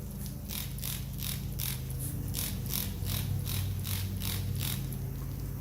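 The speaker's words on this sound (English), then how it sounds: "Just spray the heck out of it," Rhythmic bursts of hissing spray of soapy water onto a mower tire repeat about a dozen times over a steady low mechanical hum, close and fairly loud, with no talking.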